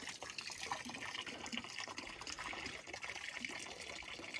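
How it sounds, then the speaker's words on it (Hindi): Water flows and splashes steadily at a mountain village in Kinnaur, Himachal, a continuous close, fairly full rushing like a tap or spout filling, with no voices over it. "और ये पानी आ रहा है।"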